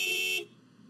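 A car horn from a supermini racing broadcast blares loudly and steadily for under half a second, then cuts off, leaving quiet background noise.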